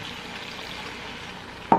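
A hot pan of extra-cheesy, super-spicy fire ramen noodles sizzles steadily up close as a little more water goes in. The hissing fry holds evenly throughout and ends with a sharper clatter.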